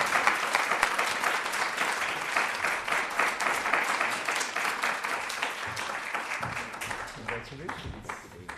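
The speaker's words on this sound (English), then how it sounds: "Gives us another chance to applaud." Sustained audience applause at a lecture event honoring a merit scholarship recipient, a dense steady wash of clapping that thins out toward the end.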